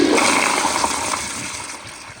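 A Kohler Highcliff Ultra toilet with a flushometer valve flushes in a loud, close rush of water that starts at full force and gradually fades over two seconds, with no one speaking.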